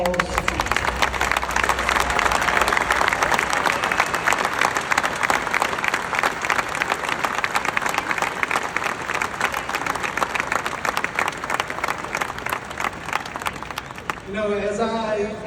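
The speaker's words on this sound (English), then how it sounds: "I would like all of you to give her a long applause" Long, sustained applause from a large stadium crowd honoring Mrs. Illich at a Detroit Tigers number retirement ceremony for Lou Whitaker, dense and even throughout before a voice takes over near the end.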